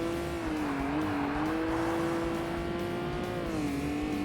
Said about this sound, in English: Classic RB26 noise, which also, again, sounds incredibly accurate.